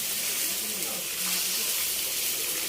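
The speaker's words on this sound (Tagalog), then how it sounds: "pagyan na natin ng tubig" Water pours steadily into a cooking pot in a home kitchen, a continuous splashing gush with a faint voice in the background.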